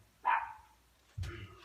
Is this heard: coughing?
no